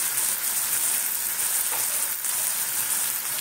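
Green chilies fry in a hot pan for a curry of drumsticks and mixed vegetables, giving a continuous, even sizzle close by with no pauses.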